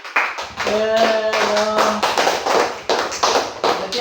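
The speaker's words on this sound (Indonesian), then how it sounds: "aplaus untuk semua" Grade 6 pupils in a science lesson clap for every group, a steady patter of hands running beneath a teacher's voice.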